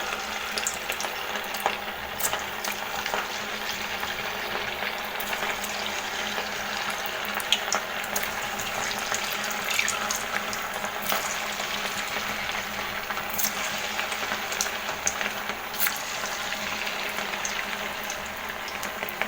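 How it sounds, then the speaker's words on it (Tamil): Gulab jamun dough balls frying in hot oil, a dense steady bubbling sizzle with scattered sharp pops, close and constant without speech. "இப்போ நம்ம செஞ்சு வச்சுருக்கிற குலோப் ஜாமுன் உருண்டைகளை அதில் ஒன்றா போட்டுருவோம்"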